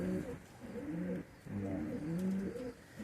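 A three-year-old female racing pigeon with a red leg ring coos close by, repeated throaty rolling phrases in a steady rhythm with brief pauses between them, no voices over it.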